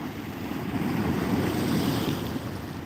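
A steady, even roar of sea waves on Pondicherry beach, with wind blowing across the microphone the whole time.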